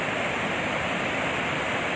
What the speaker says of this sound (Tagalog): Kaya kailangan magpapalabas na yung dam ng tubig para